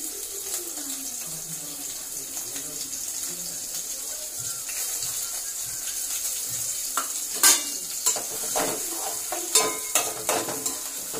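Onions frying in hot oil in a pan for a simple home chicken curry, a steady soft sizzle with a few sharp stirring clinks and scrapes near the end, no talking.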